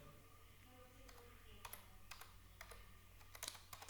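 Typing on a computer keyboard during a Python programming tutorial, quiet irregular clusters of key clicks and taps over a faint steady background hum, alone without speech.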